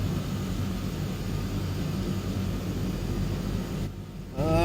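A Twin Otter's engines pushed to full throttle in Microsoft Flight Simulator 2020 roar in a steady, loud drone that holds throughout, easing briefly near the end before surging again.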